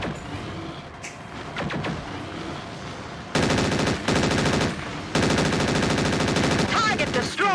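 Sustained mech weapon fire trades back and forth in a Mechwarrior 4 Mercenaries battle, loud bursts of rapid automatic gunfire in long dense stretches broken by short gaps, with scattered impacts before the heaviest volleys.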